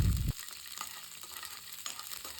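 Garlic, ginger and green chillies frying in a pan over a low flame: a short heavy knock at the start, then a steady close hiss of sizzling oil with faint stirring scrapes, no talking.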